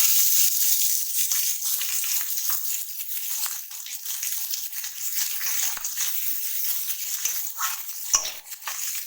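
Chopped onion frying in a pan over ginger-garlic paste for a Bengali egg curry, a steady loud sizzle with occasional stirring and utensil clinks, no talk.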